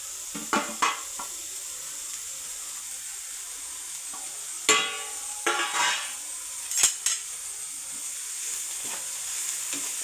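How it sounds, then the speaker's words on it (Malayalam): Chopped ingredients stirred into a salted ground spice paste in a cooking pan, with a steady faint sizzle and several short scraping and clinking bursts of the spoon against the pan. "നമുക്കെല്ലാം കൂടെ ഒന്ന് യോജിപ്പിക്കാം"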